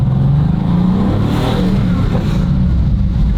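A rebuilt 1,000 horsepower Mercedes-AMG engine accelerating in race mode, a loud, dense roar with rising revs, heard from close by and continuous throughout.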